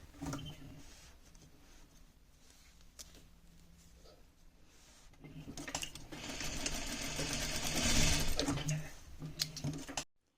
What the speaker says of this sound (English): I'm gonna start sewing from here